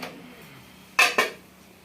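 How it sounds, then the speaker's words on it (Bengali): A metal lid lifted off a cooking pot heating milk on a gas stove, giving two quick, close clanks about a quarter second apart over a faint, quiet kitchen background. "আমি ঢাকনা খুলে দেখছি"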